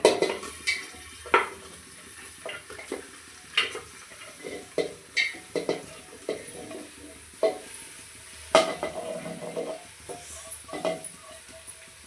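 A curry mixture for goat head curry fries in a pan under a soft sizzle while a spoon stirs and knocks against the metal in a steady series of sharp, rhythmic taps.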